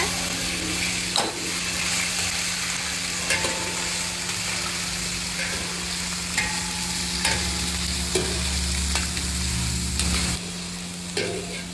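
Shallots and ginger sauté in hot oil, a steady close sizzle broken by recurring scrapes and clinks from a spoon stirring the pan, with a low steady hum underneath.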